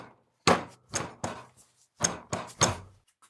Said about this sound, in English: I used a brass hammer to drive out the shaft.